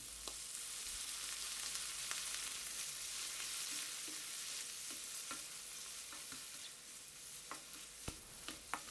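Mussels and peppers are sautéed in a pan with a steady hissing sizzle, broken by occasional clicks and scrapes of a utensil stirring them, close and fairly quiet; no voices.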